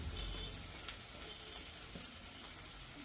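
Chopped tomato and carrot fry gently over medium-low heat for burger filling, a faint, even sizzle with soft crackles throughout.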